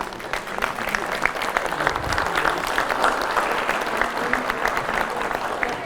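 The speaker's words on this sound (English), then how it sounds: "If we can stand and just give a round of applause to our grads, we would appreciate it." Graduation ceremony crowd at a high school claps for the graduates, a dense, even round of applause that holds steady for several seconds with a few voices mixed in.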